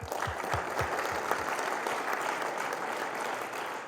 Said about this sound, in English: Can we give a round of applause for that, please?